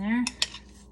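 A metal utensil mixes butter into mashed potatoes in a pot, giving two quick scraping clinks against the side after a short tonal squeak, close and fairly soft with no talking.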